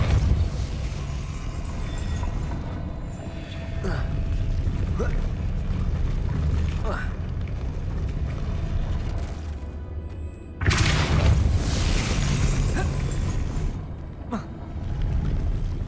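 The Depulso force spell fires in Hogwarts Legacy, a sharp burst followed by crashing, rumbling impacts among other game sounds, with a person talking throughout.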